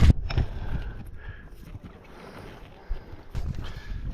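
Paddle strokes from a kayak or canoe moving through heavy wind, heard as uneven splashes and sloshing water under a steady gusty rush of wind, with no voices.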